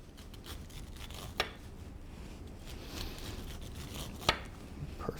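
A knife slices downward along a corn cob, stripping off tender kernels for elotes, with soft scraping cuts and two sharper snaps standing out near and fairly quiet.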